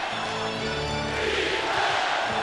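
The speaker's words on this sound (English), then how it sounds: "Crowd urging this end of the floor." Basketball arena crowd roaring for the Lakers during Kobe's final game, a steady loud wall of cheering and chanting that swells slightly toward the end, with no clear breaks.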